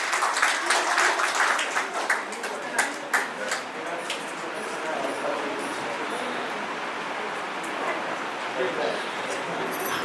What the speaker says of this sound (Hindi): तो इनके लिए जोरदार ताली तो होनी चाहिए एक बार